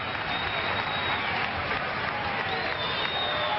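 Crowd applause fills a 1995 PBA Touring Players Championship bowling tournament in the tenth frame, a steady dense wash of clapping and cheering that carries on without a break for a few seconds.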